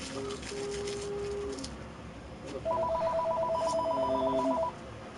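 A telephone rings in a store, with two bursts of electronic ringtone: a short tone first, then a longer, louder pulsing melody of repeated beeps over faint background noise.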